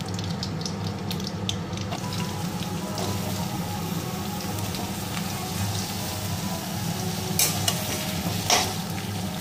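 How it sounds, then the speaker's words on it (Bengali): Potatoes and papaya frying in oil in a wok, a continuous close sizzle with occasional scraping and stirring clicks from a spatula, steady and moderately loud without speech. "আলু আর পেঁপেটা আমি আগে ভেজে নেব।"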